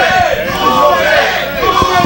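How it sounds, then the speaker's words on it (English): Wrestling event crowd cheering and rising in a steady, loud, continuous roar of mixed voices and chatter with no clear pauses. "And listen to the crowd come up for Cool J."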